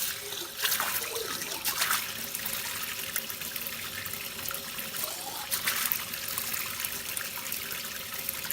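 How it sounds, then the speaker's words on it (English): Hot water runs steadily from a tap into a sink, a continuous close hiss and splash that holds at an even level throughout with no talking. "My hot water's been running for about 15 seconds."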